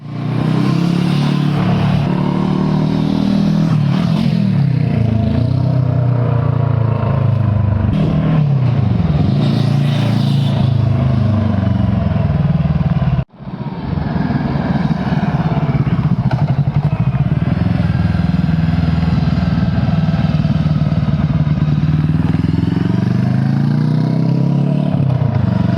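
A Brixton Crossfire 500 motorcycle engine idles and revs loudly up close after a start, a steady throbbing parallel-twin rumble with rising and falling revs, briefly cutting out midway before running on again.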